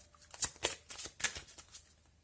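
Tarot cards are shuffled close up in a quiet room, a quick series of soft riffling snaps and slaps in an uneven rhythm.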